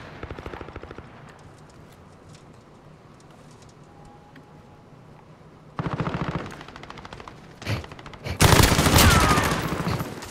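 Rapid automatic gunfire in a shooter video game rattles in bursts, with a quieter stretch in between and a loud, dense final volley.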